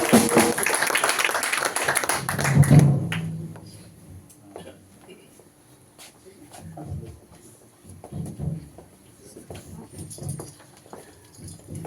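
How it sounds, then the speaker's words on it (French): A church congregation applauding during a Sunday service, a loud dense burst of clapping for about three seconds that stops abruptly, followed by quieter scattered room sounds. "Applaudissons pour le Seigneur."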